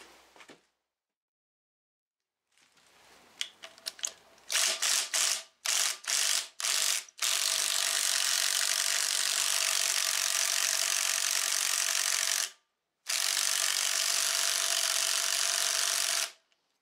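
A ratchet works on a cam bolt of a 2006 Hummer H3 3.5 five-cylinder engine, first in quick separate clicks, then in long bursts of rapid ratcheting close to the microphone, broken by short gaps.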